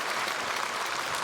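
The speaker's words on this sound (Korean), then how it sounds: "크게 박수로 환영하겠습니다" A church congregation at a Sunday service gives a steady round of applause to welcome newly registered members, with dense clapping sustained throughout.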